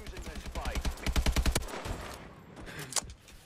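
An AK-12 rifle in Call of Duty Advanced Warfare fires a fast automatic burst of sharp, evenly spaced shots that stops abruptly, followed by quieter game noise and one faint click.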